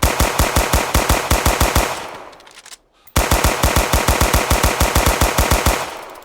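An M3 submachine gun fires in the Roblox game Operation Overlord, loud and close, in two long rapid bursts separated by a brief silence, with no talk.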